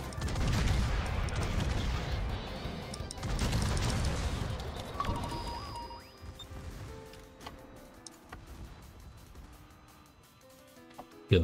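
Warship secondary guns fire repeatedly in World of Warships, with a run of booming shots and crashing impacts over the first seconds before fading into quieter game sounds and a final sharp hit.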